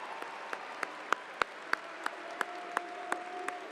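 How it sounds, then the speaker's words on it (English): A graduation audience at Hampton High School gives a round of applause for the valedictorians, a faint, sparse patter of claps with a few sharp, louder hand strikes spaced out through a quiet hall. "Let's give them one more round of applause."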